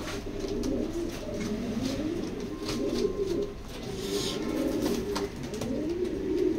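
Racing pigeons coo steadily in a loft, several birds overlapping in a continuous low, rolling murmur with soft wing and chirp sounds mixed in.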